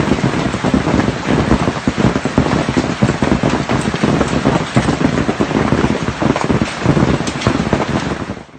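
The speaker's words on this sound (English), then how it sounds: "Now, that is hail in Mexico." Hail and heavy rain pound down during a storm in Mexico, a dense, continuous clatter of sharp ice impacts over a steady roar of falling water.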